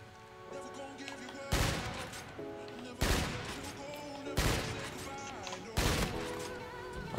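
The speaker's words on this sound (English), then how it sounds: "Are you even shooting anything? Nope, just dodging yours." Bursts of gunfire from the video game Call of Duty on Xbox One, four loud volleys at roughly regular intervals over steady in-game background sound.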